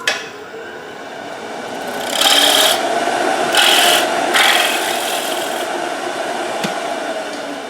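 A wood lathe turns a piece of wet green wood while a tool scrapes against it in a steady, loud, rasping hiss, broken by several brighter bursts of cutting.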